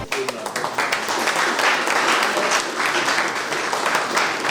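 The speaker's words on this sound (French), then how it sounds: "Qui d'entrée a demandé aux ministres une salve d'applaudissements pour leur collègue, Mme Nialé Kaba" Ministers at a council of ministers meeting break into sustained applause for a colleague, a dense, steady patter of many hands clapping close by and filling the room for several seconds.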